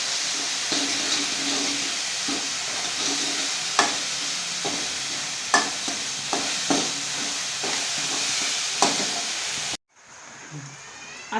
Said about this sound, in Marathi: मसाले घातल्यानंतर पण आपण तेल सुटेपर्यंत मसाले परतून घेणार आहोत